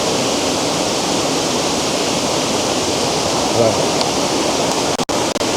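Lower Campsie Falls waterfall pours in a steady, loud broadband rush throughout, with a brief spoken word near the start and a couple of short handling knocks near the end.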